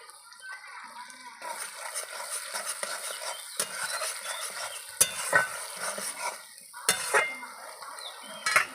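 Soy sauce added to mosambi-lime prawns frying in a pan, with close stirring scrapes, clinks of utensil on pan and a soft steady sizzle, sharper clatters toward the end.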